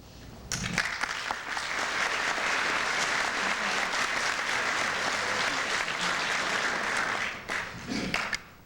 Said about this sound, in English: When a preacher gets applause